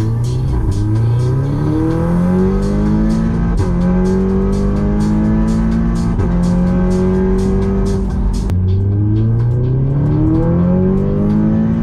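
A turbocharged MK2 8J Audi TTS on stock diverter valve pulls hard through the gears, its engine note climbing steadily and dropping at each upshift in a loud, close, continuous run.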